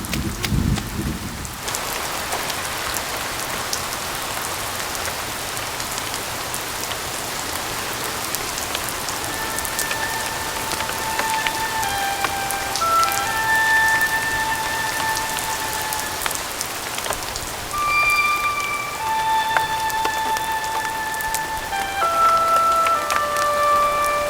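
Heavy rain falls steadily and close by throughout, a dense even patter on surfaces with no voices over it, while faint tonal music plays underneath.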